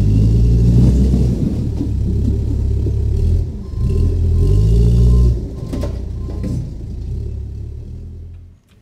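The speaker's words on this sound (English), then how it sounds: "Start the engine, yes." Car engine in a horror video game set in Japan's Inunaki Tunnel, heard as a loud, continuous low rumble that swells and revs for several seconds before dropping away at the end.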